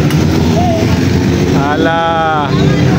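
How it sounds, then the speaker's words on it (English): Motorcycles pass along the course of a men's elite national road cycling race, one engine rising and falling in a short whining sweep over a noisy roadside background with voices around. "Ayan mga motor."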